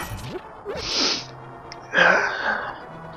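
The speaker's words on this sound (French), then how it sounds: "on dirait bien que j'ai survécu à cet éternuement" A single sneeze with a sharp inhale then a loud burst, heard alone in a quiet village setting in the game Zelda Parallel Worlds.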